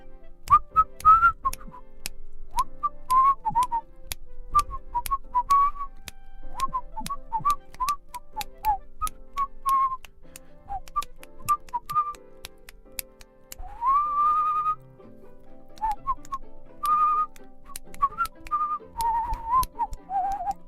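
A person whistles a bright, wandering melody of short phrases and slides, clear and close, with faint clicks and taps in the background.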